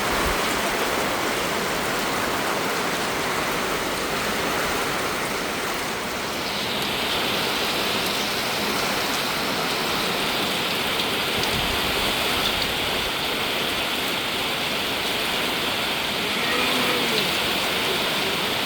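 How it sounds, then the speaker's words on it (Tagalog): A sudden heavy downpour roars steadily and densely, a constant broadband wash of rain hitting surfaces close by, unbroken for the whole stretch with no talk. "Biglang bumuhos."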